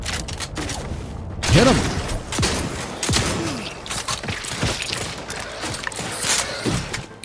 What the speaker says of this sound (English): Switch to the shotgun.